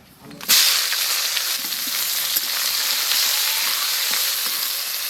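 Bay leaf, nigella seeds and chopped onion dropped into hot oil for a katla fish curry: a sudden loud sizzle erupts, then settles into a steady, close, hissing fry that continues to the end.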